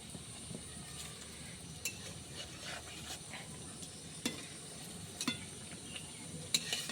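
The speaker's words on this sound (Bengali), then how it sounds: "এক এক করে অনেকগুলো দিয়ে দিলাম, লাল লাল করে ভাজবো।" Balls of rohu fish roe frying in hot oil, a quiet, steady sizzle with occasional sharp pops and crackles scattered throughout.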